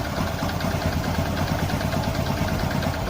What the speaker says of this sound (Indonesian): Mesinnya kurang halus sebenarnya, ada suara bantingan piston ya.